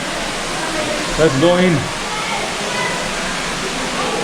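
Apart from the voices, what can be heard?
water flowing down from above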